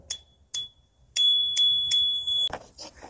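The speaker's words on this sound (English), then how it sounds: "Oh, this one is a bell. So they do include manual bell." Manual bicycle bell supplied with a long-range electric bike, struck several times: two short rings, then a run of sustained, ringing dings close and loud, ending with a clunk as it is handled.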